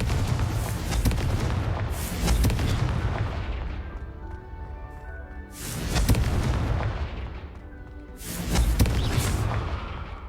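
Explosive Confringo spell blasts in the Hogwarts Legacy video game, three loud booming detonations with long rumbling decays, spaced a few seconds apart, close and dominant with no talk.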